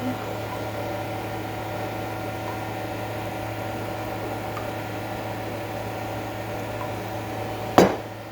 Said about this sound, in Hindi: बैकग्राउंड में मेरी जो है वो एग्जॉस्ट की आवाज़ आ रही होगी